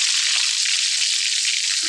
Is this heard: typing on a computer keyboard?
no